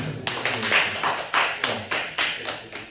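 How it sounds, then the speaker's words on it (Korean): A small group in a cave church claps for an excavator operator, giving a series of sharp, evenly spaced claps, close and moderately loud, with no talk over them. "박수 한번 쳐주세요."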